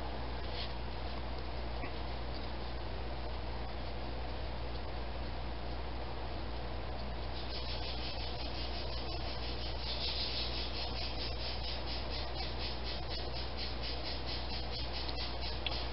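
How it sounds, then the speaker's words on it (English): Bathroom exhaust fan motor stator being rubbed clean by hand, a soft continuous scratchy rubbing over a low steady hum, quiet and close, with no speech. "To clean the stator up just a little bit."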